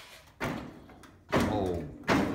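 Car door on a 1952 MG TD body being worked on, heard as three fairly loud, close thunks and rattles spaced about a second apart, with no talk.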